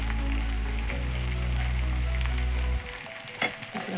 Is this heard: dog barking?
no